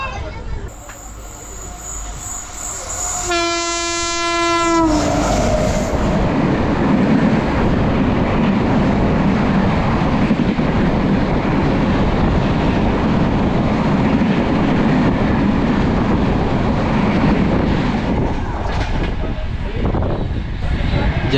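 A train horn blares briefly, then a loud, rushing rumble of a fast Shatabdi express train passing close by on the Konkan Railway continues to the end.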